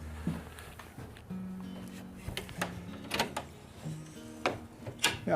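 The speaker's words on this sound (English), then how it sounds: "I need to open a couple doors here." Doors being opened inside a clock tower: scattered wooden knocks, clicks and creaks with a few short tonal squeaks, close and fairly quiet in a hushed room.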